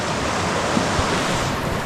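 A mountain river in South Canterbury rushes in a dense, steady roar, close and loud, with wind buffeting the microphone and no voices.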